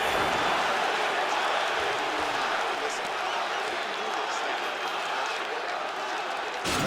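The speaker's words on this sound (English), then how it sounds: "So the crowd voicing its appreciation after that round" Fight crowd at a Khabib Nurmagomedov vs Conor McGregor bout cheers and applauds after a round, a dense, steady roar of voices and clapping filling the arena.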